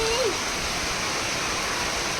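First rain of the season falling as a dense, steady hiss of rain, close and constant, with a brief voice sound at the start.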